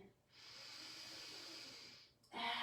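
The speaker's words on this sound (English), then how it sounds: "Take another deep breath in." A deep, steady breath drawn in during a peaceful flow yoga practice, a soft airy hiss lasting about two seconds, close and alone, followed by a louder burst of breath or sound at the end.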